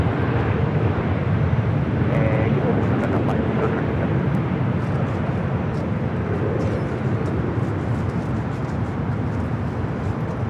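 Singapore Airlines jet in older livery departing Los Angeles airport, a constant broad engine roar heard from a distance with wind buffeting and some talking mixed in.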